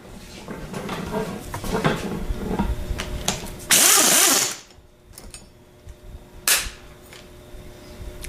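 A ratchet with a short extension and an E8 star socket works on a motor strap bolt, giving a few quick clicking bursts and sharp metallic knocks close to the microphone.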